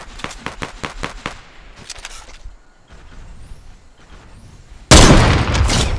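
Gunfire in a Fortnite match: a rapid series of sharp shots in the opening seconds, scattered softer shots after, then a sudden loud, sustained blast of noise near the end.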